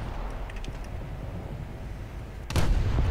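Ship guns firing in War Thunder naval combat, a steady low rumble of battle with faint distant reports, then one loud heavy gun blast near the end that leaves a deeper roar behind it.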